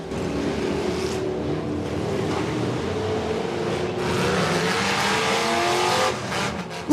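A school bus spins in a demolition derby, its engine roaring steadily and loudly for the whole stretch, with a rising rev and a burst of crowd-like noise toward the end.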